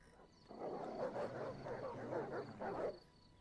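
Several dogs barking repeatedly in an ancient Roman siege battle video game, a run of close, sharp barks and yelps over about two and a half seconds.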